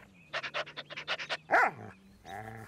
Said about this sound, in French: Sarah a un chien.